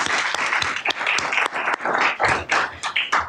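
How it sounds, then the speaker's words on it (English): Audience applause for candidates at a League of Women Voters forum, a brief burst of mixed clapping with uneven rhythm, fairly close and without talk. "I think we owe them a round of applause."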